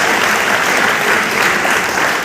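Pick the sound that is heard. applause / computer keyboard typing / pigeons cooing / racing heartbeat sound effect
applause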